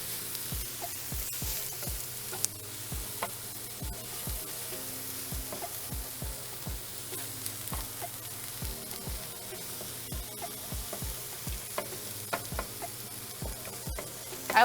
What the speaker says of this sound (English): We have our meat cooking.